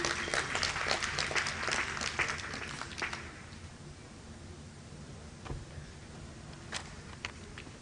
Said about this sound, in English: Please give him a round of applause as he comes up quickly.